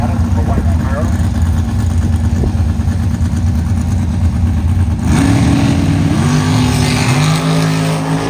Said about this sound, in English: Got a door car sitting on the line.